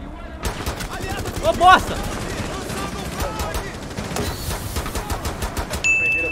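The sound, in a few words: Gunfire in video game Rainbow Six Siege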